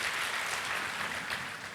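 Church congregation applauding during a Sunday service, a soft, even patter of many hands that stays steady for the whole moment, heard from a distance without speech.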